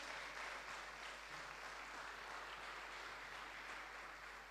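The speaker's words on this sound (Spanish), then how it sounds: "Dale un aplauso al Señor." A church congregation applauds during a worship service, a steady, dense wash of many hands clapping at once, faint and distant beneath a constant low electrical hum.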